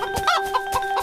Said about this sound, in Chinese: 你站住，别打鸣了，我还没睡呢。